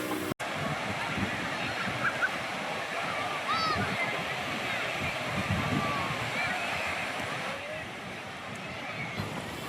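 Sea surf rolls onto the shore at Nishkalank Mahadev beach during a Dasha Maa idol immersion, a constant loud roaring wash with faint voices and scattered crowd sounds over it.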